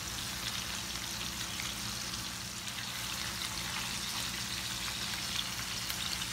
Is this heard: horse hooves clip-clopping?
no